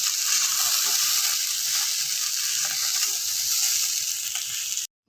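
Vegetarian pulao with cashews and coconut flakes is stirred and tossed in a hot pan, a continuous sizzle with light scraping for about five seconds before it cuts off abruptly.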